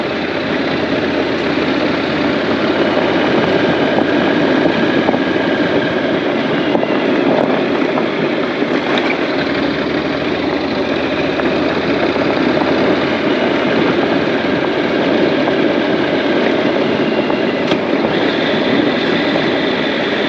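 A Honda NC700X motorcycle engine while riding, lugging in too high a gear: a loud, steady low drone with constant rumble and wind, unbroken for about twenty seconds with no talking.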